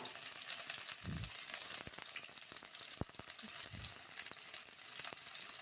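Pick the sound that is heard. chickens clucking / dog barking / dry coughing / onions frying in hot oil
onions frying in hot oil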